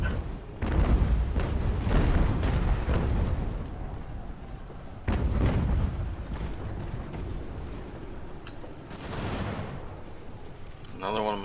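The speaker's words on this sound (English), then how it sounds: "They're pretty much down to nothing but artillery at this point." Heavy booming artillery and gunfire roll through a Revolutionary War battle at Fort Ticonderoga in Ultimate General: American Revolution, two big loud volleys followed by fading rumble and scattered distant shots.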